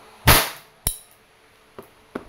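A WE Glock 34 Gen 4 airsoft gas pistol fires one sharp, loud crack, then a softer clack follows and two faint ticks trail after, close by with no voices.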